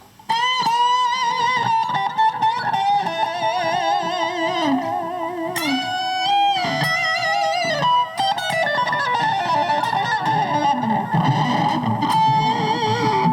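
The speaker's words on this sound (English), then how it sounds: "So the flanger gives it a kind of rosy Brian May tone to it, right?" Electric guitar run through a delicate flanger on a Zoom G2 NU multi-effects pedal, giving a Brian May-like tone: sustained, shimmering melodic lines with slowly sweeping phasing, played loud and close without any talking.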